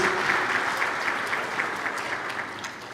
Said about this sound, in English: A final round of applause for the doctor,